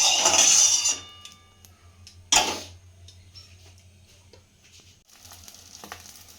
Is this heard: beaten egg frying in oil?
yes